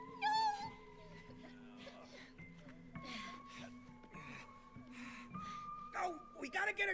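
A cat meows in the video game It Takes Two, short mewing cries rising over game music and effects, mixed with voices talking throughout.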